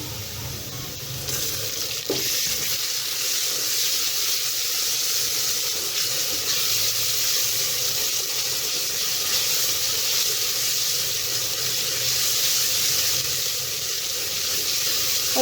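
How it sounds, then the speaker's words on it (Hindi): Ginger garlic paste frying with onions in a pan over a low flame, giving a steady, even sizzle and hiss that runs unbroken throughout at moderate loudness. "अदरक लहसुन का पेस्ट ऐड करने के बाद हमने इसे 2 मिनट के लिए फ्राई कर लिया था।"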